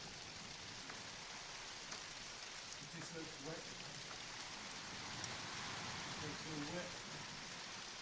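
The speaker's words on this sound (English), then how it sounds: "it's raining cats and dogs in the barn" Steady heavy rain drums on a barn roof with holes and missing tiles, a dense continuous hiss with scattered drips, while faint voices murmur underneath.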